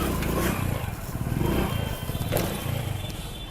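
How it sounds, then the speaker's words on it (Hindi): A Splendor motorcycle's engine pulses and revs as the bike is lifted into a wheelie, a close, throbbing exhaust note that rises and falls over a few seconds. "आपने साउंड भी सुनी होगी बाइक के आरपीएम की"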